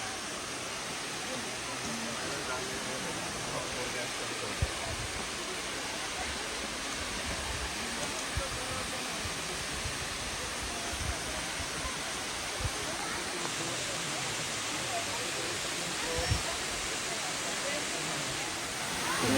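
Abbey Falls in Coorg runs low on water, yet it still gives off a steady, even rush of falling water. The broad, continuous roar stays close and unchanging throughout.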